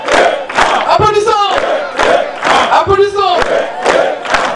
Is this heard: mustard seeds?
no